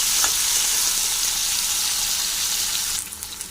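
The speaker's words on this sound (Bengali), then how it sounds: "আলুটা নড়িয়ে নেব, ভালো করে লাল করে ভেজে নেব।" Potato pieces fry in hot oil in a pan with a loud, steady sizzle close by, and the crackle thins and turns choppier near the end as they are stirred.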